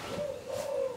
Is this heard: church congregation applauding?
no